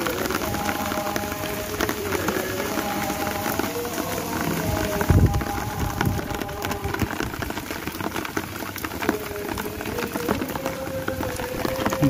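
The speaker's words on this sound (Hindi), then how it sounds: "बारिश बहुत तेज़ी से हो रही है छत पे" Heavy rain pours steadily onto a rooftop in Faisalabad, a dense, constant rushing patter with scattered louder drops, close and continuous throughout.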